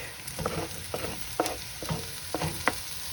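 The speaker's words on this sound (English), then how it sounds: "Okay, I think we're ready to add the leek" Leek sautés in a pan while a utensil stirs it in a regular rhythm of soft scrapes and taps about every half second, all over a constant light sizzle. No one speaks.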